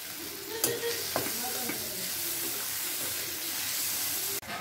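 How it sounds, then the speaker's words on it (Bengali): Mango chutney with turmeric stirred in a pan, a steady frying sizzle under scraping spoon strokes with a few sharper knocks against the pan, close and moderately loud, no talking. "হলুদ দিয়ে আবার ভালো করে নাড়িয়ে চাড়িয়ে নেব"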